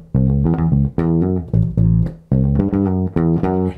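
A bass guitar riff played in the backwards position, starting on the fourth finger, with a series of punchy, separated low notes in a repeating pattern, played alone and clearly.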